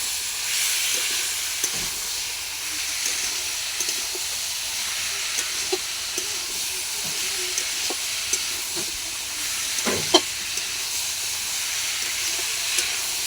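Ginger garlic paste being sautéed in a pan for a tilapia and greens-stalk dish, a steady low hiss of frying with occasional spoon scrapes and knocks, one sharper clatter near the end.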